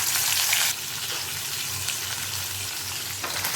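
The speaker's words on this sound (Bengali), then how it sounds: "এখন আমি তেলের মধ্যে মাছগুলোকে ছেড়ে দেব আর এপিট ওপিট করে হালকা ভেজে নেব।" Pieces of katla fish are slipped into hot mustard oil and sizzle loudly and continuously, a bright, steady crackle that eases slightly after the first moment.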